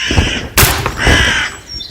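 Crows caw loudly and close by, a couple of harsh, raspy calls in quick succession with a sharp burst in the middle, alone without talk.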